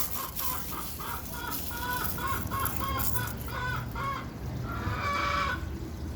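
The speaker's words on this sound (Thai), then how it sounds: "มีเสียงไก่ร้องครับ มันจะไข่" A hen about to lay an egg clucks in quick, repeated bursts close by, with a longer drawn-out squawk near the end over a steady background hiss.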